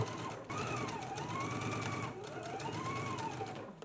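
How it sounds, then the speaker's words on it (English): A sewing machine runs steadily, stitching the waistband onto a girls' and misses' dress, its fast even needle rhythm continuous and close with no talking. "Let's go ahead and stitch now."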